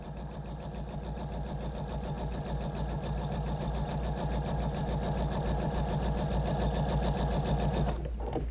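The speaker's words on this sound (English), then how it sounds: "Now I'm going to sew on the other side a scant 1/4 inch again." A sewing machine stitches a scant quarter-inch seam on a flying geese quilt block with a steady, fast, close-up whir and rapid needle chatter that runs continuously, then stops abruptly near the end.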